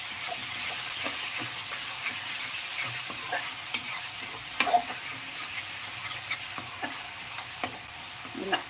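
Spices stirred in a frying pan give a steady, close sizzle, broken by scattered scrapes and light clicks of the spoon against the pan.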